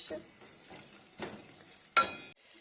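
Butter and flour being stirred in a frying pan over low heat for a Christmas dish, with a utensil scraping in short repeated strokes over a soft sizzle, and a sharper clack near the end.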